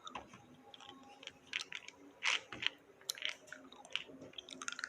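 Someone chews soft, chewy Malaysian Mentos candy close to the mic, making quiet, moist, squishy bites and smacks in an irregular rhythm, with one louder squelch partway through.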